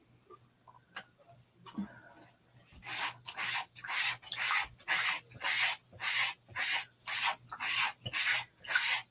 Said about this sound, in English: I like to kind of give it a scrub on the bottom